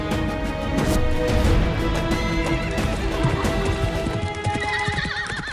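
Steady clip-clop of horse hooves runs throughout, loud and close, with whinnying neighs rising over it in a dramatic battle sound effect; no talking.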